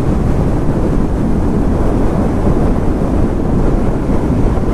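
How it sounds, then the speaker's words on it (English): Strong outdoor wind buffets the microphone in a constant, dense rushing roar that stays level throughout, with no voices. "Bloody hell, it's windy."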